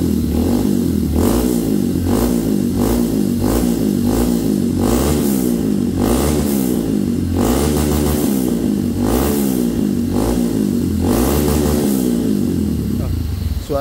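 A Honda CRF motorcycle with a standard exhaust revs repeatedly, loud and close, with a steady rhythm of throttle blips rising and falling over a continuous idle.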